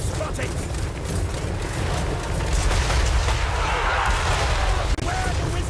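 Battle gunfire from the video game Total War: Warhammer III, a dense, continuous roar of shots and booms across the whole stretch, loud and steady with a sharp crack near the end.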